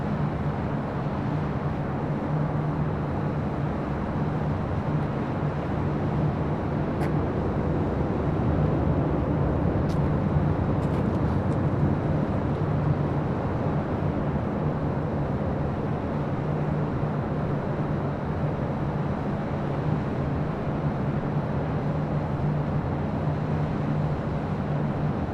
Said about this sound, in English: That was American Airlines Flight 396, 787-8 Dreamliner coming in from Miami